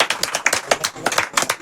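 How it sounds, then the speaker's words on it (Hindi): Audience clapping in response to a call to applaud a teacher's hard work, sparse, uneven claps in a near, moderately loud burst with voices mixed in. "तो एक बार सर की मेहनत के लिए जोरदार तालियां होना चाहिए।"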